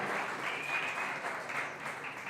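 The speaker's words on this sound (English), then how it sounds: "I'll please ask you to give a round of applause to all the speakers of today" An audience applauds the day's student speakers, a soft, somewhat distant wash of steady clapping from a room full of people, even in level and unbroken by voices.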